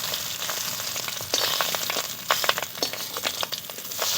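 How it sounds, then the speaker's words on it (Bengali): Fish roe fritters frying in a small amount of oil crackle and hiss up close, with dense popping spatters that grow busier toward the end. "আর এই বড়াগুলো ভাজতে কিন্তু বেশি তেল লাগে না বন্ধুরা কম তেলেই হয়ে যায়"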